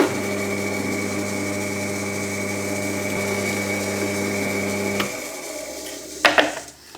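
A drill whirs at a steady pitch for about five seconds, boring a 4.5mm hole, then stops, followed by a few light knocks and clicks.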